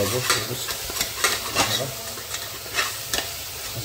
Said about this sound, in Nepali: यसलाई म मजाले चलाउने छु अहिले मसला अब रेडी हुँदैछ